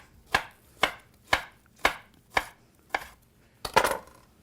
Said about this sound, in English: I slice it nice and thin too, so that we get kind of more absorption of the juices out of here